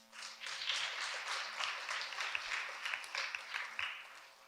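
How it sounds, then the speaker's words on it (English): An audience at a student election for school posts such as 5th grade president breaks into applause, a dense crackle of clapping that swells quickly and holds for several seconds before tapering off. "I want to start by giving everyone up here a big round of applause for making it this far."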